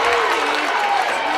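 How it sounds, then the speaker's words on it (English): Home fans clap in a gym during a WIAA Division 4 girls sectional semifinal basketball game, a steady, dense patter of applause filling the hall without a break. "it's a clap from the Colby faithful here"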